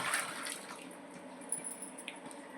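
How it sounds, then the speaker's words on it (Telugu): Water drains from boiled sweet potatoes in a colander, a faint wet trickle and a few soft drips heard close and quiet, with no talking. "చూసారు కదా, ఈ విధంగా ఈ వాటర్ అంతా కూడా ఇప్పుడు పంపించుకోవాలి."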